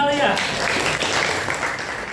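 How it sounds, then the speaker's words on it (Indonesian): A classroom audience claps for a student, a short burst of dense applause from a group of students, fairly close. "Tepuk tangan untuk Ananda Alia."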